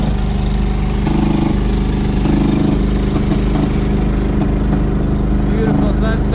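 Steady, loud drone of an LS V8 swapped into a Nissan rockcrawler cruising down the road, a continuous low engine hum with road and wind noise and no clear break, while a voice talks over it.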